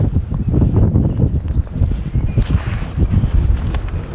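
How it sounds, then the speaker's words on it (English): Gusty outdoor wind buffets the microphone at Mount Herzl, a loud low rumbling roar that surges and fades in irregular bursts across the whole stretch. "It's a bit windy."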